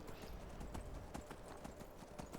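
Horse hooves clip-clop in a steady trotting rhythm in Skyrim, each strike crisp and close but quiet, with no talk.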